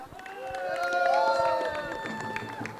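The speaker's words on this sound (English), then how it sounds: "Can we hear a loud cheer for the Champs?" At a cricket semi-final, a crowd cheers for the Champs team. Shouts and whoops swell to a peak and then fade, with scattered claps mixed in.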